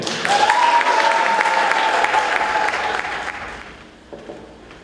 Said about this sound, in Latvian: Sagaidiet ar aplausiem!